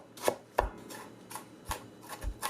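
Knife finely mincing ingredients for Lebanese meat pizza on a cutting board, a handful of sharp, close chops in an uneven rhythm, alone with no voices.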